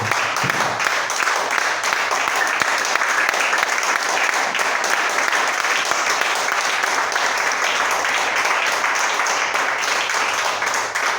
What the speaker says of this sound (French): donnons une forte acclamation à la parole de Dieu